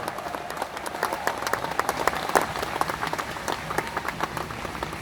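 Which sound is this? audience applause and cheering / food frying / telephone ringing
audience applause and cheering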